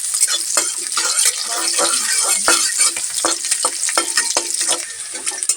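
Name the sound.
onion and ground spices being fried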